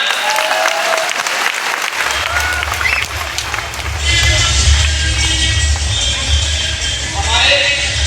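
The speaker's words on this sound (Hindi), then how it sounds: "तो तालियां बजनी चाहिए ना।" An audience in a seminar hall breaking into applause, dense clapping filling the room throughout, swelling somewhat louder partway through and continuing steadily with a low rumble underneath.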